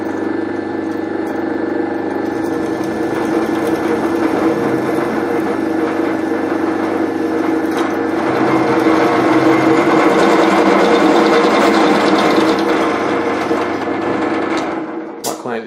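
A power drill running continuously on the floor repair of a 105 Road car under restoration, a loud steady whine and rattle that swells slightly mid-way before cutting off at the end.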